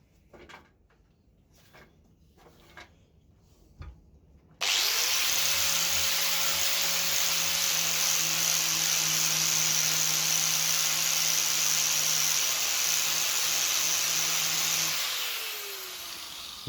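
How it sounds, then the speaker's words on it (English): After a few faint knocks and handling sounds, an angle grinder starts up on a guitar neck pocket, a loud, close, sustained whine and hiss that runs steadily for about ten seconds before winding down. "now I'm going to attack this with the angle grinder"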